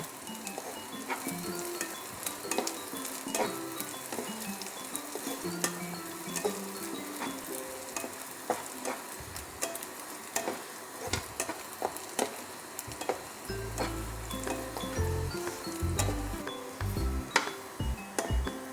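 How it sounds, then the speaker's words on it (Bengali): Onions frying in a pan with cardamom, small bits of cinnamon and a few cloves give a constant close sizzle with stirring scrapes and occasional clinks of utensil on pan, no talking. "এই গরম মশলা কটা আমি এর মধ্যে পেঁয়াজের সাথে একবারে ভেজে নেব"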